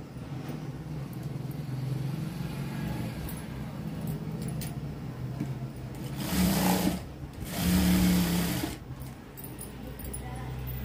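A sewing machine stitches tucks on a knee-length frock, with a low motor hum throughout and two louder bursts of stitching close by, and a voice talks quietly in the background.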